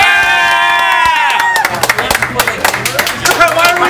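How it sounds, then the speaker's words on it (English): Canadian soccer fans in a crowd cheer with a sustained shout, then break into bursts of rhythmic clapping, close and loud, with voices mixed in. "Why are we clapping?"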